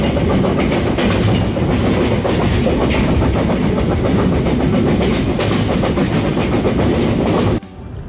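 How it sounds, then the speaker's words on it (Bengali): A train running along the railway near the Ishwardi bypass in Bangladesh, a loud, continuous rumble with rhythmic clickety-clack from the wheels, heard from onboard, cutting to quieter sound near the end. "ট্রেন চলতে চলতে চলে এসেছি ঈশ্বরদী বাইপাস"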